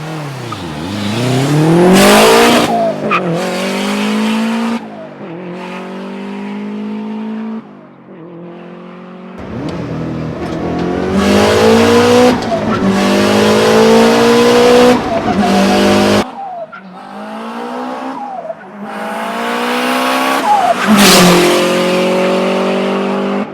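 A turbocharged 1996 Subaru WRX STI Type RA rally car engine revs hard through repeated gear shifts, pitch climbing and dropping, with brief lifts between bursts and the rasp of a sporty exhaust.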